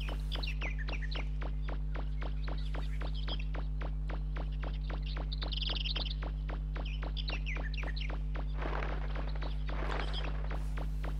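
Mega Man's shoes in MegaMan 64 give a steady run of soft suction-cup footsteps, each one brief and evenly spaced, with bird chirps scattered among them over a constant low game hum.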